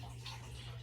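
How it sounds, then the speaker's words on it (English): Filtered water running steadily into a pot of bones for homemade bone broth, a faint continuous trickle over a low steady hum, brief and without talk. "So I'm going to add a little more filtered water here."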